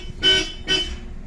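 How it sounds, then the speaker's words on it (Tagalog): A Bosch Europa horn on a Suzuki Jimny honks twice in quick succession, two short, loud, bright toots close by. "ang Bosch Europa, solid na busina na"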